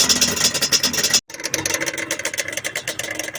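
A repaired Yamaha Banshee 350 two-stroke engine runs loud and close, its uneven idle briefly cutting out before picking back up with a raspy, pulsing rhythm.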